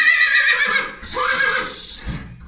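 A horse neighs and whinnies in repeated bursts while being tacked up with a numnah and saddle, loud and close, with no talk over it.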